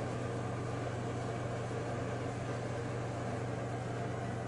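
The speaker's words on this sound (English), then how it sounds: "the noise you can hear in the background is the ice maker" Ice maker in an old inn's kitchen gives off a steady, faint hum, an even mechanical drone with no breaks, alone without talk.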